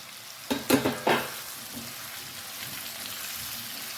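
Zucchini is stirred into a tomato sauce frying in a pan, with a few sharp scraping stirs near the start followed by a soft, steady sizzle. The sound is close-up and there is no talking.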